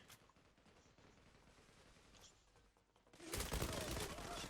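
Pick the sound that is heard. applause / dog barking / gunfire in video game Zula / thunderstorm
gunfire in video game Zula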